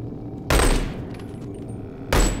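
Two loud, close single gunshots ring out in the VR game Boneworks, about one and a half seconds apart in a dark setting, each with a sharp crack and a short booming tail.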